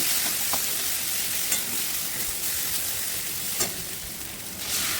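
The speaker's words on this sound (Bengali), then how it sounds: "এরপরে আমি এখানে পোস্ত বাটা দিয়ে দিলাম। দিয়ে ভালো করে কষিয়ে নিচ্ছি।" Poppy seed paste with coconut powder sizzles in a pan while it is stir-fried for shukto, a constant hiss with a few light clinks of the spoon against the pan; no one speaks.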